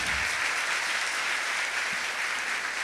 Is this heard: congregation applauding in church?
yes